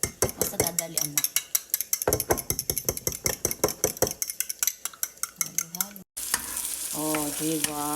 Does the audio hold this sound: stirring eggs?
yes